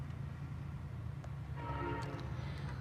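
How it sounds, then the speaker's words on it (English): A train passes at a distance, its low steady rumble running under a brief horn-like tone in the second half, heard outdoors from a roadside spot in the western US. "Ooh, there's a train."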